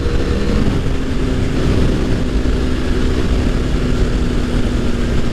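A motorcycle engine drones steadily while riding along New Zealand back roads near Tauranga, with a continuous loud hum and wind rush and no pauses.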